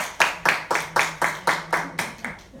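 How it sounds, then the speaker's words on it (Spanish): A small class group clapping in unison to applaud student groups, eight sharp, evenly spaced claps at a steady beat in a room, fairly close. "démosle un aplauso al grupo número 2, el grupo número 3"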